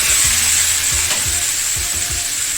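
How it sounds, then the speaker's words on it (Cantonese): A tomahawk steak sizzles loudly and steadily in a hot pan with garlic and herbs, with soft regular thumps as the pan is tilted and handled, close up with no talking. "就可以擺塊扒落去啦"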